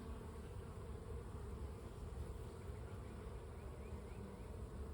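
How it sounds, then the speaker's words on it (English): Honey bees buzzing during a spring hive inspection, a faint, steady swarm-like drone hanging in the air without pause, no voices over it. "and the bees are getting a bit upset."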